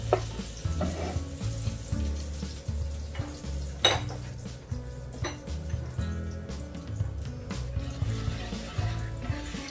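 Oil and a spoon of ghee heating in a pan for prawn malai curry, a soft sizzle under steady background music, with a couple of clinks of utensils.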